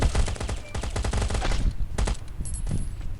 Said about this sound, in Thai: มีคนยิงว่ะเฮ้ย